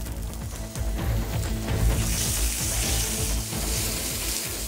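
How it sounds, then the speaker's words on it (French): Meat sears in a hot frying pan, cooked on one side only in a restaurant kitchen: a loud, steady sizzle that holds for the whole stretch with no talking over it. "Kevin démarre ses cuissons à la poêle à l'unilatéral."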